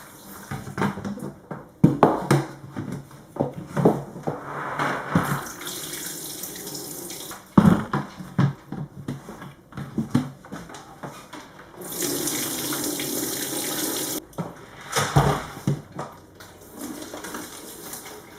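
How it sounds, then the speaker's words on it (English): Kitchen faucet water splashes intermittently as food is rinsed in a sink, with uneven bursts of running and spattering, a louder steady stream near the middle, and clatter between pours, close and without speech. "I usually like to give them a little rinse too."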